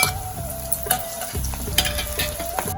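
Tomatoes fry in hot oil with cumin, onions and ginger-garlic paste, giving a loud, steady sizzle broken by the scrape and clatter of stirring, with no talking.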